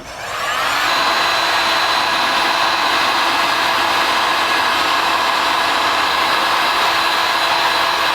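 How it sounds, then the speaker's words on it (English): A heat gun blows steadily and loudly for several seconds, shrinking heat shrink tubing onto a high-voltage wire lug during Tesla-powered Vanagon wiring work; a constant roaring whoosh starts abruptly and holds with no speech. "a little bit of love and attention with the heat gun, and this heat shrink is nice and tight on the lug"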